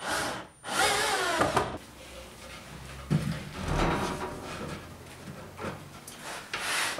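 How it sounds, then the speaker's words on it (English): Screws driven into a workbench panel, with short bursts of whirring drill or driver and scraping, knocking handling sounds of wood, close by and irregular, with no talk. "Now I'll just fix it with screws."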